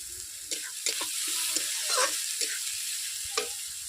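Onions fry with salt in a pan for a rohu fish curry, giving a steady hissing sizzle with scraping stirs and light clacks throughout.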